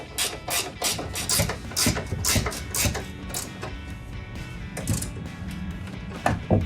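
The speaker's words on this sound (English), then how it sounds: "We will go ahead and torque down our 18mm nuts on top of the strut here." A ratchet tightening 18mm nuts on top of a strut on a 2019-2024 Chevrolet Silverado 1500 clicks in quick, regular bursts, close and crisp, with short pauses between strokes.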